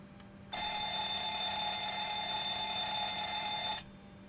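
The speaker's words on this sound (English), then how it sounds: "let's test the alarms" In a Boeing 737-700 flight simulator game, a cockpit alarm test sounds a steady, ringing warning tone that holds for about three seconds before cutting off, loud and alone.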